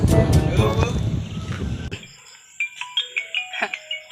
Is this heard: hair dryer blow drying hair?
no